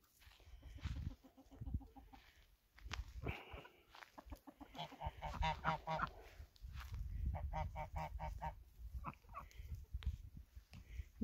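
Geese honking among chickens and ducks on a farm, a fairly faint, busy mix of repeated nasal honks and clucks at mid distance, continuing throughout with no speech.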